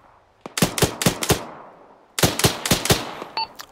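Two close, loud bursts of rapid automatic fire from a tank in the Arma 3 combat game, each burst four or five sharp cracks, separated by a short pause, followed by a faint electronic blip.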